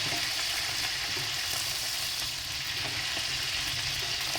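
Capia and green peppers sizzle and fry on a wood stove, a dense, steady crackling hiss that carries on unbroken and close throughout.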